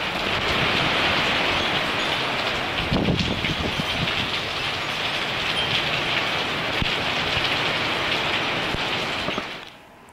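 Heavy, steady rain from Hurricane Irma, about 70 to 80 miles from the storm's core, pours as a dense broadband hiss at constant strength, then cuts off abruptly at the very end.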